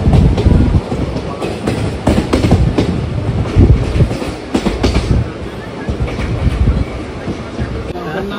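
Hazarduari Express passenger train running between Kolkata and Murshidabad, a steady loud rumble of wheels on rails with rhythmic clickety-clack over joints, continuous throughout and heard from inside the carriage.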